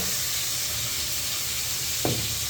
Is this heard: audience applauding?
no